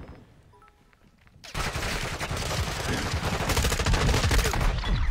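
After a quiet second, sustained rapid gunfire erupts in the video game Modern Warfare 2, dense automatic bursts with overlapping shots, loud and continuous until the end.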